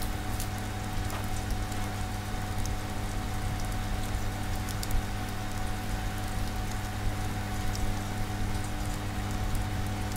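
A rainstorm in the game Oxenfree patters and hisses steadily with dense raindrops over a constant low hum, unbroken and loud for the whole stretch with no voices.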